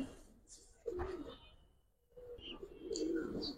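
Pigeons coo softly at a pigeon market where Giribaz and coloured breeds are sold, a few low rolling calls close by amid quiet background noise and faint voices.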